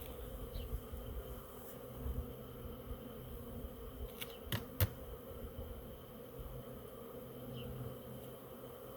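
Soft, steady buzzing of a honeybee swarm around a hive fills the air outdoors, a dense low hum with a few sharp knocks and clicks partway through.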